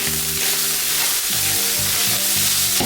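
Seasoned ground meat with salt and garlic powder sizzles and browns in a pan, a steady loud crackling fry with faint stirring scrapes and a low hum underneath.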